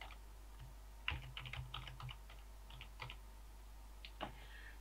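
Keys on a computer keyboard tap out a Wi-Fi password in short quiet clusters of clicks, close and faint, with a low electrical hum beneath and no talk.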